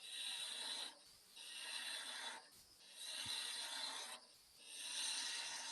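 Skew chisel cutting half of a V cut into a wooden mallet head turning on a lathe, in three close, steady rasping passes separated by short quiet gaps, no talking.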